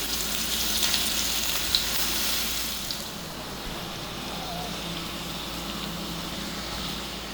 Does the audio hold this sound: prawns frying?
yes